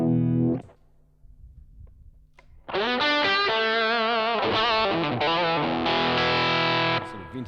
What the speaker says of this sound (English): Sort of vintage fuzz pedal sound there, into the really heavy driven Foxy.